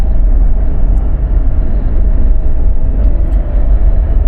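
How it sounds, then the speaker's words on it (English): A steady, loud low rumble of a Renault Triber engine and road noise heard from inside the cabin, continuous throughout with no talking. "It is pretty loud in here, the engine is pretty loud"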